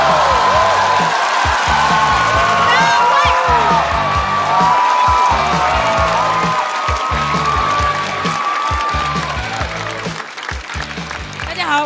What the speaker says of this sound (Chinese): 掌声欢迎张慧